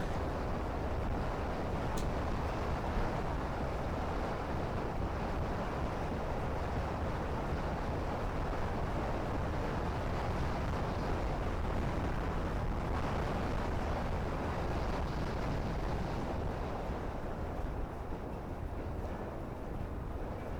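A Lexmoto Pegasus 300 scooter engine drones steadily, mixed with heavy wind rush, continuous and unchanging, as if heard while riding along.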